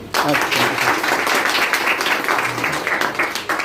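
A crowd at a leaders' event claps in a loud, dense burst that carries on steadily, with voices mixed faintly beneath the applause.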